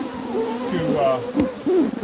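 Bees swarming around a hive, a steady close insect buzz with wavering drones and passing wing hums rising and falling throughout.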